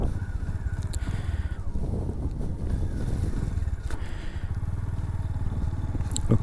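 A new Suzuki GR150 motorcycle engine runs steadily and close by, with a low, throbbing idle and occasional clatter and mechanical knocks throughout.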